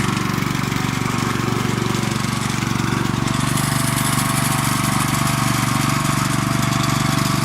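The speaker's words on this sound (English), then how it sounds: "driving a lawnmower" A loud, steady engine drone runs throughout with a rough, buzzing mechanical rattle, close by and unbroken, like a mower running at full throttle.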